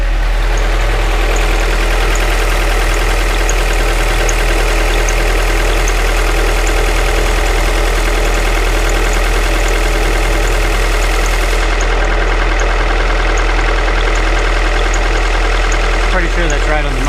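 A Honda Integra with a swapped F20 engine idles steadily close by, a constant low rumble with a faint rhythmic ticking throughout, no other sounds over it.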